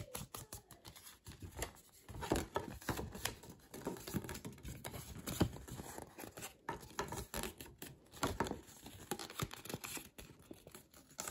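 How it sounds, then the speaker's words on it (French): Paper being scored along fold lines with a tool while making a handmade mini album, heard as a close series of scratchy strokes and taps of uneven rhythm, with no talk. "On va venir faire le marquage de nos plis."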